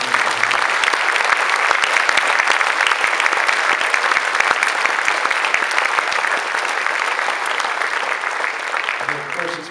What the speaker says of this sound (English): could you give them another round of applause for the wonderful work?